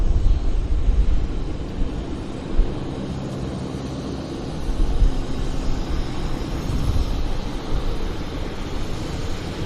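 A small airplane rolling down the runway for takeoff at Vancouver Airport, its engine a continuous broadband roar heard from a distance, steady with mild surges and no voices.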